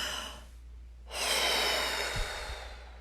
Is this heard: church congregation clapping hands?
no